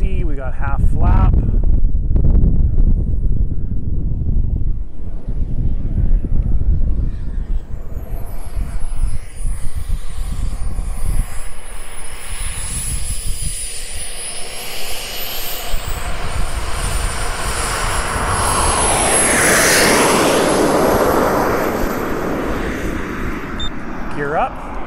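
An Aviation Design Diamond model jet runs at full throttle on its first takeoff: a loud, roaring turbine with a rising whine sweeps upward and then fades as the plane pulls away, with wind buffeting and some talking.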